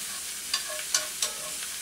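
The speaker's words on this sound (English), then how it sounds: "just add it to the pan because you do wanna cook those shallots pretty well" Shallots fry in oil in a pan, a soft steady hiss with three quick utensil scrapes or clinks spaced across a brief moment, close and fairly quiet.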